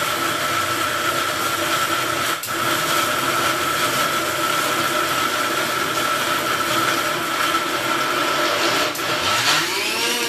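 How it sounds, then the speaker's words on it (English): A grinder pulverises a paan truffle mixture of dates and paan into a fine paste, making a continuous loud whirring drone throughout, with a brief dip and a late shift in pitch near the end. "Want this into a nice fine paste, so I'm going to grind this well."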